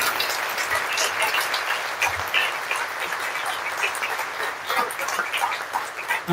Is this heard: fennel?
no